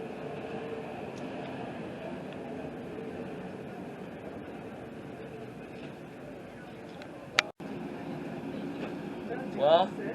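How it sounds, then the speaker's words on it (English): An airport terminal people-mover train glides in with a low, steady rumble and hum, fairly quiet and distant, a sharp clunk near the end and faint chime-like tones at the close. "The train is arriving."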